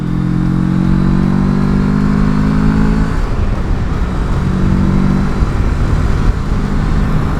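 Moto Morini XCape 650 adventure motorcycle accelerating out of a small town, a loud steady engine drone that shifts pitch midway as the bike pulls away, mixed with road and wind noise.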